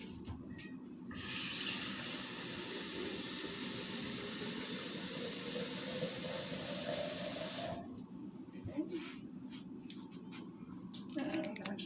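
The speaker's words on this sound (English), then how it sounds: "I'm gonna put cold water." Cold tap water runs steadily into a container at a kitchen sink for about six seconds, a loud even gushing rush that cuts off abruptly, followed by quieter knocks and handling sounds.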